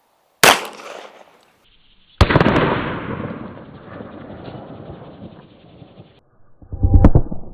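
A .45 caliber 1911 pistol fires a single loud, sharp shot at a bulletproof Humvee windshield. A second loud impact follows with a long ringing decay, then a final burst of clattering noise.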